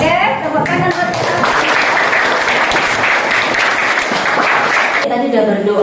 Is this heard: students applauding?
yes